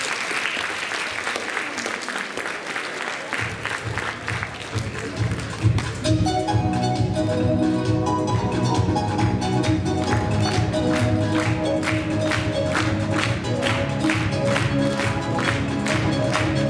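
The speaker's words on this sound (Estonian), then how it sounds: "Aplaus 6. A-le!" Audience applause at a school Christmas party, a steady wash of clapping from a full hall that carries on throughout as music with a beat comes in and grows beneath it.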